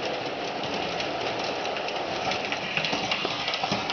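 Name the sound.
model train engine pulling up an incline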